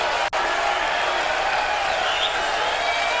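Darts crowd at a world championship quarter final applauding and cheering, a dense continuous wash of clapping and crowd noise that stays loud throughout.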